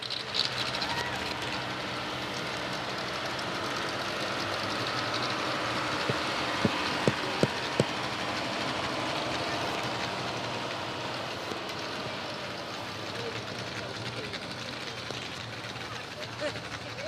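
A pulling tractor at an agricultural fair tractor pull roars with a sustained engine drone and a few sharp pops midway, while an announcer talks over it.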